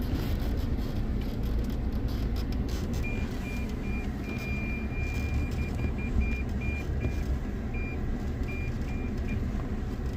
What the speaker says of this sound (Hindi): ये पार्किंग सेंसर्स हैं, घास पत्ती थोड़ी पास में आ रही है, उसकी वजह से वो इंडिकेशन देता रहता है